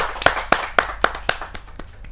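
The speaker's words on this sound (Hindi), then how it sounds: "जहाँ जोरदार तालियों के साथ हम स्वागत करें अरविंद भरमर।" An audience at a Hindi kavi sammelan claps in a steady, evenly spaced rhythm to welcome a young poet to the stage, sharp synchronized claps that fade slightly toward the end, with no talking over them.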